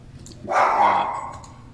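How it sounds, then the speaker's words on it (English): A single dog bark at home, one short loud burst in the middle, with quiet before and after. "I think my dog's going to be going crazy"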